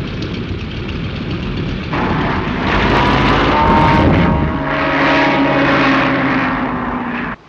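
Propeller mail plane engine droning steadily and loudly, swelling in strength midway and holding a sustained roar before cutting off abruptly.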